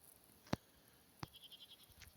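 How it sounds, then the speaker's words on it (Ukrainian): Goats bleat faintly at a distance from a rural garden, two short cries about a second apart followed by a quieter, wavering call, with no talk. "Кози чую, бекають"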